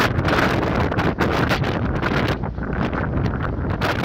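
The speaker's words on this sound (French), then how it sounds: "le vent souffle à 20 mètres par seconde" Strong storm wind at sea in a Force 8 gale on the North Sea, blowing at 20 metres per second, a loud continuous rushing roar buffeting the microphone, steady throughout with no voices.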